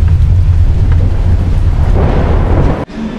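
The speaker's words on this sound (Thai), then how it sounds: "แล้วก็ฝนตก เขาบอกว่าฝนเพิ่งตกวันนี้เลย" Heavy rain pours steadily at the start of the rainy season in an Indian town, with a dense low rumble like thunder or wind, loud and continuous before briefly cutting out near the end.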